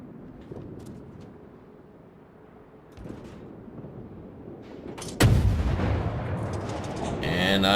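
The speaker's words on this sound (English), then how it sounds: "I begin opening up on Charmaire with these 130mm guns on the Gremyashchy" 130mm guns of the destroyer Gremyashchy firing in World of Warships: a heavy, booming salvo lands loud and close after quieter rumbling game ambience, with faint scattered shots earlier.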